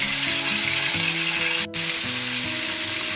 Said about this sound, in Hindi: इसे हम चला लेंगे और मसाले का कच्चापन जाने तक इसे हम फ्राई कर लेंगे।